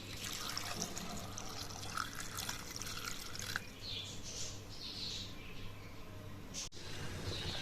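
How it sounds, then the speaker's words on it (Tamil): A steady stream of water splashes and trickles into a pot of elephant foot yam for several seconds, with a low hum and faint birdsong in the background. "அதை கொஞ்சம் தண்ணி ஊற்றி ஒரு 10 நிமிஷம் வேக போட்டுருவோம்"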